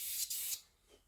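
Two short bursts of spray paint hiss close by onto a 1/700 scale Revell Bismarck model, each lasting about a quarter second, followed by quiet.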